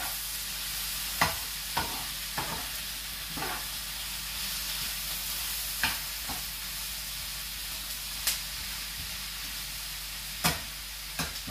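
Rabbit liver, kidney, heart and back strap browning in a hot pan, giving a continuous soft hiss broken by a dozen or so scraping stirs spread unevenly through the stretch.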